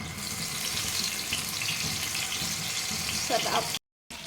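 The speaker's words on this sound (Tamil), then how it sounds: "இப்போ நம்ம இதை பொரிச்சு எடுத்துக்கலாம்" Fish frying in hot oil in a kitchen pan: a steady, dense sizzle and crackle runs throughout at moderate loudness, ending in a short gap of silence.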